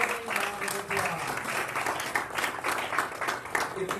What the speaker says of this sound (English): we'd like to give the Hard Rock Casino of Northern Indiana a rousing round of applause